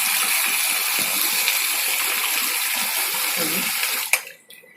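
A repaired water-cooler pump sends a steady, loud rush of flowing water that runs evenly for about four seconds, then cuts off abruptly, leaving a brief fading trickle.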